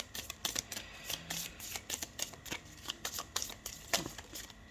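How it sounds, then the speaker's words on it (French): A deck of oracle cards is shuffled for a reading, giving a close, quiet run of crisp riffling clicks and soft card slaps in quick irregular bursts, with no talking. "on va compléter avec 3 cartes pour chaque domaine avec l'oracle Spirit de Mariana"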